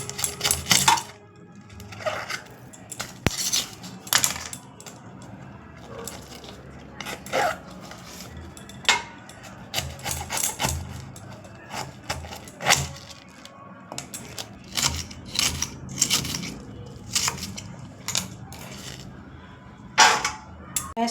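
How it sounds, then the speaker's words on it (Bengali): A knife cuts through a cabbage in a run of sharp, irregular chops against a board, close and crisp with short pauses between strokes and no voices. "বাঁধাকপিটা কাটবো।"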